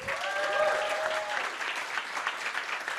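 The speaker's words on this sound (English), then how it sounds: "Can we get a round of applause for all the nominees?" An audience at a young innovator awards ceremony applauds the nominees with a steady wash of clapping, and a brief tonal whistle-like sound rises over it near the start.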